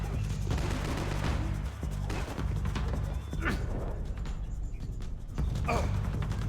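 Gunfire pops in a shooting video game, scattered shots and short bursts under steady background noise, with a voice speaking between them.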